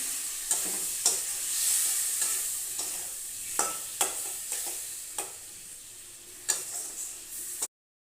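Spice paste sautés in a pan for a fish curry with potato and pointed gourd, a steady sizzle punctuated by repeated sharp scrapes and knocks of a spoon stirring against the pan, then it cuts off abruptly.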